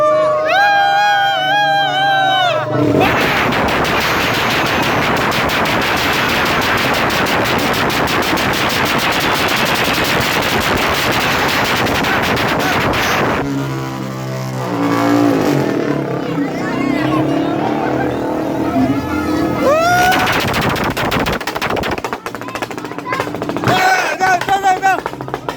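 New Year firecrackers bursting outdoors, long rapid crackling strings that pop like machine-gun fire, loud and close, with brief pauses, crowd noise and a person's voice calling out between the volleys.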